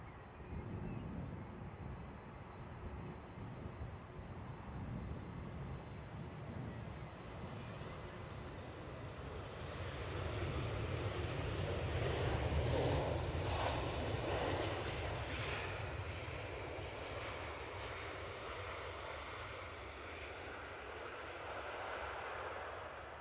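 A Lufthansa Airbus A321-100 airliner bound for Dusseldorf at Edinburgh Airport, its engines a steady distant roar that swells to a peak midway and then eases off slowly, heard alone with no talk.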